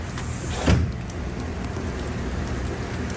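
Steady rain from Hurricane Milton patters on surfaces, with a brief low thud early on, continuous and moderately loud.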